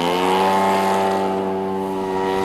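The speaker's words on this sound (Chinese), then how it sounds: "地面上有人拿着遥控器控制这台五颜六色的模型飞机，架的是95000汽油" A colourful gasoline-powered radio-controlled scale model airplane flies overhead, its engine a steady, loud buzzing drone with strong harmonic whine, holding a nearly constant pitch throughout.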